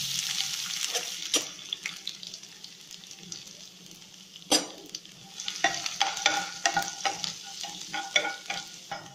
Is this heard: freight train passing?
no